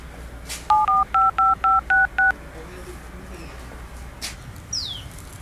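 Telephone number being dialed: a quick run of seven evenly spaced dual-tone keypad beeps, clear and fairly loud over a faint background hiss, followed by a couple of soft distant sounds.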